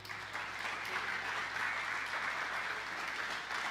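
A church congregation breaks into steady applause at a service, many hands clapping together in a dense, sustained wash heard from within the room, with no talk over it.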